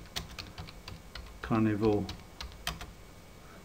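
Computer keys tap in short irregular bursts as image files are renamed. The keystrokes are close and light, and a brief spoken word breaks in midway.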